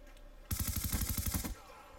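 Rapid burst of automatic gunfire in Call of Duty: Black Ops 2, about a second of fast repeated loud shots, then quiet.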